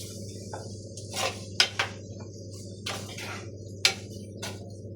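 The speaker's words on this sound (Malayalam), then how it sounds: "അപ്പം നമുക്കൊന്ന് അടയ്ക്ക് കൊടുക്കാം" A lid set onto a cooking pot of kovakka avial gives a few faint, sharp clinks spaced over several seconds above a steady low kitchen hum.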